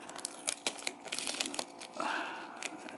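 Masking tape peeled off the painted bumper and fender of a Lexus LS400, a close crackling, crinkling tear with rapid pops that ends in a longer smooth rip.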